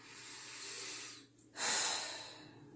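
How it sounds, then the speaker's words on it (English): A slow, deep breath close to the microphone: a long airy inhale, a brief pause, then a fuller, stronger exhale trailing off, with no talking. "Let's breathe."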